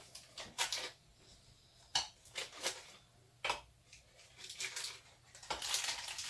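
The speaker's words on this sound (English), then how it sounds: "I'm just going to chop up a couple of the pieces of the butter just to make it a little bit smaller" Knife chopping pieces of butter on a board while making a purée with lemon juice: several sharp, separate taps and knocks at uneven intervals, close and fairly quiet, with no talking.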